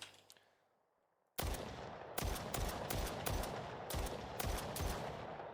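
Gunfire while shooting zombies in a Call of Duty Zombies-style game built in Unreal Engine 5: after a near-silent pause, loud close bursts of rapid shots with heavy rhythmic cracks continue to the end.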